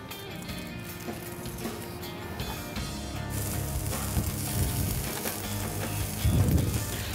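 Asparagus halves sizzle in butter beneath a hot overhead grill, a steady crackling frying hiss that swells slightly louder toward the end, with occasional soft clatter.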